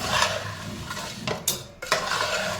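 A small spoon stirs ghee and salt into water in a pot for rice-flour modak dough, giving a few clinking, scraping knocks against the metal over a soft background hiss.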